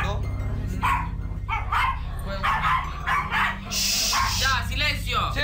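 Several dogs bark and yip indoors in a household, sharp repeated barks with a whimper mixed in, loud and close over a steady low hum, while people talk nearby.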